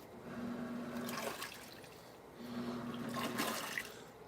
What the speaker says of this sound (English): I'm gonna turn the hot water valve off and turn the cold on so we get a cold rinse.